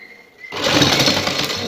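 A sewing machine runs steadily, stitching a strip of trim onto a neckline, the motor hum starting abruptly after a brief quiet moment and continuing loud and close without pause.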